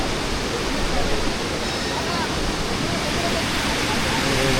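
Kondeshwar waterfall during the monsoon, a loud, steady broadband roar of rushing, crashing water that fills the whole scene without a break.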